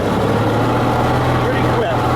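An M274 Mechanical Mule military vehicle drives in third gear low, its small engine running with a loud, dense, steady drone, close up; speech may sit under it.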